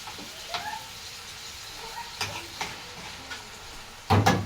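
Alexandrian-style liver sizzling in a frying pan, a quiet steady fry with a few light scraping stirs and a louder clattering flip near the end.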